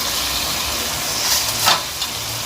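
Biryani korma frying in a pot with mint and coriander leaves added, a continuous close sizzle and hiss with a couple of brief stirring scrapes, no voices.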